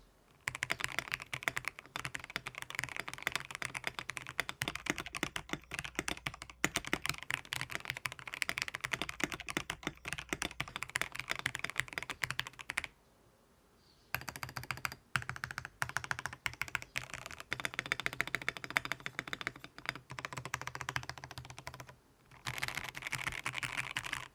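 A modded Fancy081 mechanical keyboard with lubed Holy Dog switches and stabilizers is typed on at a steady quick pace, a close, even stream of soft clacky keystrokes with two brief pauses.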